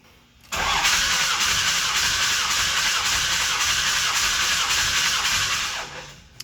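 A 2006 Cummins diesel engine cranks over with its lift pump fuse pulled for a compression test, giving a steady, loud starter churn that runs for about six seconds and then stops, with no talking.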